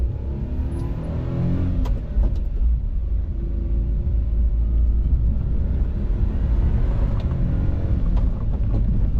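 A Daihatsu Hijet S210P kei truck drives along, its 4-wheel drive switched off, a loud steady low engine and road rumble heard from inside the cab, with occasional faint clicks and rattles and no talking.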